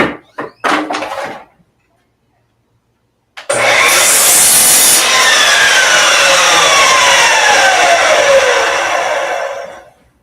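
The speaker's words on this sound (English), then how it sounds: "miter saw" Miter saw cutting wood: a loud motor whine spins up abruptly, the blade bites through the board with a rising, descending whir for about six seconds, then winds down, after a few short clunks and a brief silence.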